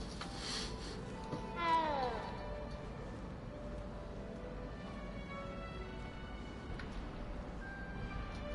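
A cat in the Hogwarts Legacy video game gives a single short meow, clear and close, over a steady bed of game music and ambience, with no talking.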